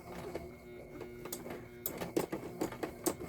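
A sewing machine whirs and stitches in short uneven bursts, with quick mechanical clicks, fairly close and quiet.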